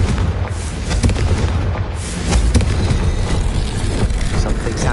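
The Confringo blasting spell goes off in Hogwarts Legacy, producing loud, rumbling booms and bursts of explosive noise that swell and roll across several seconds amid the game's combat din.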